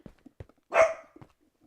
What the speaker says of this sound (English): My dog is growling at a window.